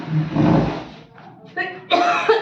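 A single harsh cough near the microphone during household dusting, followed by brief vocal sounds.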